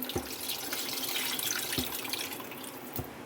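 Tamarind water pours in a steady, splashing stream into a pan nearby, with a few soft drips. No one is talking.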